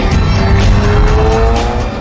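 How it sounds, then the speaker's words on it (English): A Noble sports car with a twin-turbo engine is driven hard, giving a loud, close, sustained engine roar with a rising tone and a touch of tyre noise, with no one talking over it. "you have the incredible soundtrack of that engine, those two turbos sucking in great lungfuls of air and then dumping it through the wastegate"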